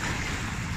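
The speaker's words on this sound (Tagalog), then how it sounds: "Ito yung dagat." Sea waves at Masasa Beach in Tingloy, Batangas, a steady broad wash of surf mixed with wind rumble on the microphone, close and continuous with no talking.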